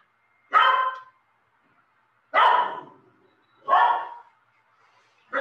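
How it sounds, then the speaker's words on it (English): A pet dog barks indoors at home, with three loud, close single barks spaced about one and a half seconds apart and a fourth starting at the end. Quiet pauses separate each bark. "Working from home, I have pets, so the dog was barking."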